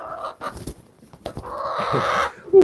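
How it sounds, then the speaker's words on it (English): Chickens cluck and squawk up close in short, uneven bursts, with a louder squawk at the end. "I at least have some chickens that'll sit on my shoulders to eat"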